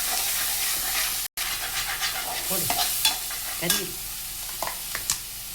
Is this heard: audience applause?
no